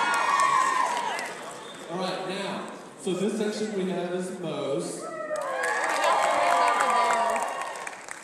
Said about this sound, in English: Cheer a little bit louder, you get free Chick-fil-A.